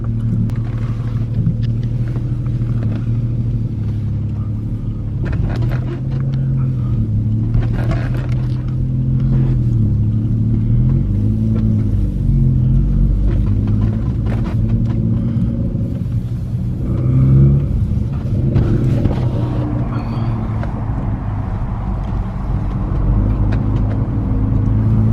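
A car engine fitted with a newly installed stage 3 turbo idles and rumbles steadily for about 25 seconds, with a deep low drone and a few light revs, loud and close with no talking.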